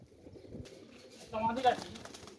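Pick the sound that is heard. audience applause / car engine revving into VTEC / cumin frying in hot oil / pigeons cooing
pigeons cooing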